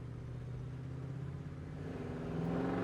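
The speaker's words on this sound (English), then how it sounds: "And as far as the idling, we're idling real nice." A 1989 Chevrolet Blazer 4x4 engine idles with a steady, low, even rumble. The sound is close and constant, with no voices, and it swells slightly near the end.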